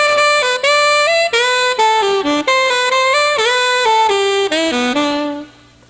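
A saxophone plays a short, flat, unexpressive line of sustained notes in a high register, each tone moving in steps with little dynamic change before it fades out.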